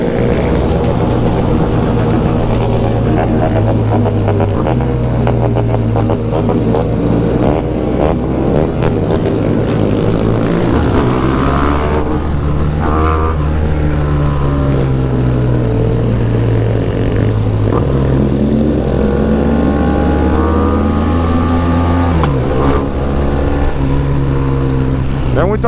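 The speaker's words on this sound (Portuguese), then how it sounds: "Muita moto, muita moto." Many motorcycles riding by at night, loud engine drone and revving that rise and fall as the bikes pass close in a steady stream, with voices mixed in.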